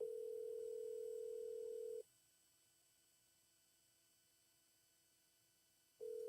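A telephone dial tone hums steadily during an outgoing call and drops to near silence for several seconds. The tone then briefly returns, faint and alone with no talk.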